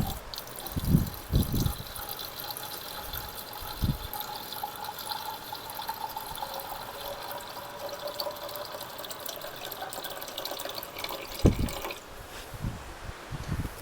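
Water from a workshop is poured to top up a barn-find Reliant Rialto, a fairly close, uneven trickling and splashing with a few knocks and drips scattered through.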